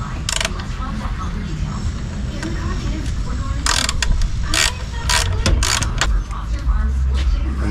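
Ratcheting clicks come from a wrench tightening bolts during a radiator replacement on a 2002 Honda Civic, with bursts of rapid clicking amid mechanical handling noise.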